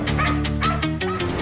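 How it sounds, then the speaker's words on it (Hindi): A dog barks and yips repeatedly in quick, close succession, the calls overlapping with whining tones and a bed of background sound. "वो कुत्ता बार बार भौंक रहा था"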